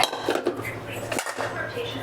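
Steel dishes and pots being stacked and put away in a home kitchen, a close, busy run of clanks and metallic clinks with scraping between them.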